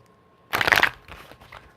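A deck of cards gets a quick riffle shuffle, one loud burst of fluttering cards followed by softer settling riffles, close up with no talking.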